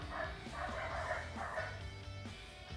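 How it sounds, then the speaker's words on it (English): Pet dogs barking indoors, several repeated woofs and yips in quick succession, loud and close, continuing throughout while a person talks faintly in the background. "Sorry, that's my dogs."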